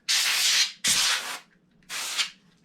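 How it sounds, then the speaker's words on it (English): Three short, close bursts of compressed air hiss onto laptop fans and heat sinks, each about half a second long, with brief pauses between them. "spray down on the fans, these little heat sinks in here"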